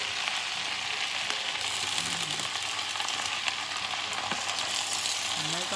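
Vegetables stir-frying in oil with soy sauce in a home kitchen, a steady broadband sizzle with scraping utensil strokes running throughout, close and fairly loud, no voices.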